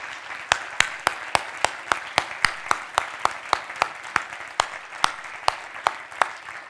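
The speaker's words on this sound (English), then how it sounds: "My mother, she's keep applauding while he's leaving the stage." One pair of hands clapping close by at a panel discussion on nutrition and poverty, about two dozen loud, evenly spaced claps, with quieter applause in the room beneath them.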